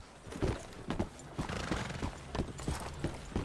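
A horse in Red Dead Redemption 2 clip-clops along in a steady rhythm of close hoof thuds, with a whinny mixed into the loud, fairly continuous sound.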